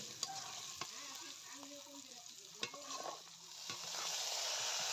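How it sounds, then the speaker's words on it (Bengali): Garlic and green chillies frying in hot oil in a village kitchen, a steady close sizzle with occasional stirring scrapes and clinks of a spatula against the pan. "এবার রসুন লঙ্কাটাকে ভালো করে ভেজে নেব কিছুক্ষণের জন্য"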